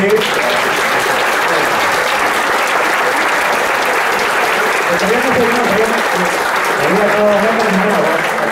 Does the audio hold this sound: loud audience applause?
yes